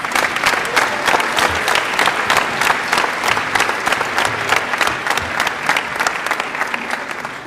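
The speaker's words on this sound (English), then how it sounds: "One more time, a round of applause for Josh Walker." Sustained audience applause fills a high school gymnasium during a Veterans Day program, a dense, even clatter of many hands clapping steadily for the whole stretch with no voices above it.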